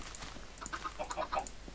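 Chickens on a Minecraft chicken farm give a few short, faint clucks and squawks over a quiet background, with no voices.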